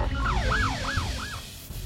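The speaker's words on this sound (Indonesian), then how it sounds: "Begitu suara sirine terdengar, Miguel segera pergi." An emergency vehicle siren wails up and down in three quick cycles over a steady background rumble, fairly close and fading slightly toward the end.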